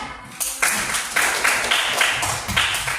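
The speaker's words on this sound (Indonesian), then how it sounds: "Kasih dulu tepuk tangan" Students in a religious education class clap for a classmate, a short burst of fairly even clapping that starts abruptly and carries on at moderate volume.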